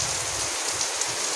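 A short burst of very heavy village rain: an unbroken roar of falling drops striking the ground and nearby surfaces, even and close, with no one speaking.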